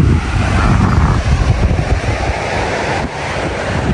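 Light wind blows at Palm Beach in Sydney, buffeting the microphone with a broad rushing roar, while surf washes in the background, steady and fairly loud with a brief dip near the end.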